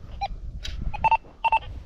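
A metal detector in a field at a medieval Polish village site gives short, high-pitched squealing signals over a find, two paired beeps standing out loudly above low background rumble.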